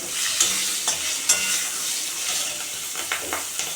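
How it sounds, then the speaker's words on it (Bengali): Black cumin seeds, a torn bay leaf and green chillies sizzling in hot oil, a loud close crackling hiss with a few sharper pops and spatters, no voices. "কালো জিরে পুরন দিয়ে দিলাম আর একটা তেজপাতা ছোট ছোট করে ছিঁড়ে ফোড়ন দিয়ে দিলাম"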